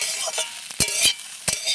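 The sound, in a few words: stirring frying vegetables in pan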